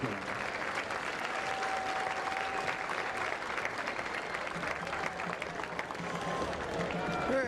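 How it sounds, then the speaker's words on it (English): Before a Henderson Lions versus Kilgore Bulldogs high school football game, the stadium crowd gives a distant, steady round of applause for honored alumni, a soft broad wash of clapping and crowd noise. "Let's show them our appreciation with a final round of applause"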